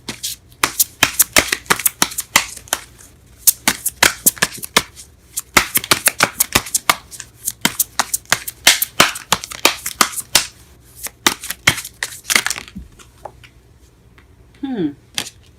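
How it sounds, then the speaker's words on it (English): Tarot cards being shuffled and drawn by hand, a rapid run of crisp riffling and flicking bursts that keeps going for about twelve seconds and then stops, close and loud, with a brief tonal sweep near the end. "I am drawing cards everywhere."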